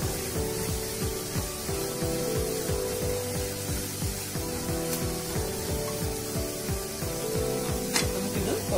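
Onions with salt soften in a pan, giving a faint, steady sizzle with rapid, regular ticking or scraping pulses running underneath throughout.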